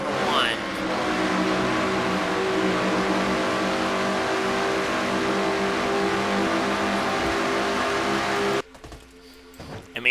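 Race cars roar at high speed around the Michigan oval in a racing video game, a dense continuous engine drone with steady pitch that cuts off sharply near the end, leaving faint sparse noise.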